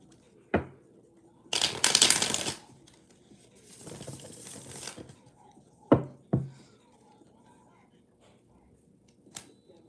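Tarot cards being shuffled by hand at a reading, two riffling bursts of crisp flutter broken by sharp taps and knocks as the deck is squared, close and fairly loud.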